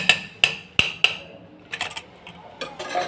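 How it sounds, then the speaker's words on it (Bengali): A tight lid being worked off a cooking pot while beef is cooked, heard as four sharp metallic clanks at regular intervals, then lighter scraping and clinking of metal, close by with no talk. "ঢাকনাটা খুলে ফেলতেছি। এটা অনেক টাইট হয়ে আছে,"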